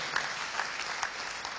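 A church congregation applauds, a steady even wash of many hands clapping at moderate distance, fairly quiet and unbroken throughout.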